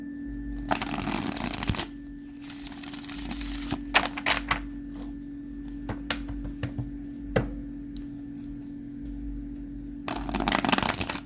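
Playing cards are riffled in several quick bursts of fluttering snaps, separated by softer taps and clicks as the deck is squared, over a steady hum.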